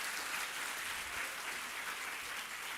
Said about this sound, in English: Can I have a round of applause for all of us here?